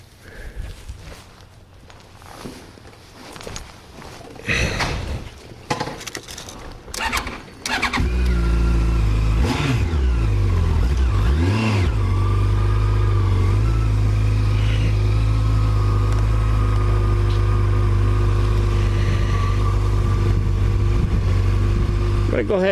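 A motorcycle engine starts and settles into a loud, steady idle close by after several seconds of handling noises and speech, with the deep drone continuing unbroken to the end.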